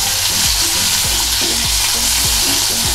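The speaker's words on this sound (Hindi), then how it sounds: "देखिए, 2 मिनट मीडियम फ्लेम पे प्याज हमारा भून गया है" Long-sliced onions fry loudly over a medium flame for spicy fried idli. The sizzle is continuous, with a regular rhythm of spatula stirring strokes and no talking.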